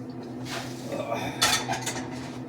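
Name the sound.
pots and pans being handled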